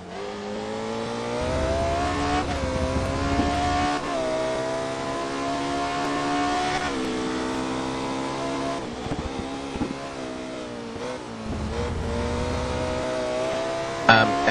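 Race cars lap the A1 Ring in Gran Turismo Sport during an online race, their engines droning and shifting pitch as they accelerate, brake and change gear, with steady whining tones and a brief louder burst near the end.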